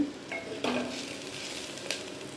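Spices are tempered with asafoetida for tiffin sambar, a short soft sizzle in hot oil with a couple of light spoon knocks against the pan.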